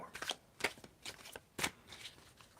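Tarot cards being shuffled by hand, a series of quick papery riffling bursts, close and soft, with brief pauses between them.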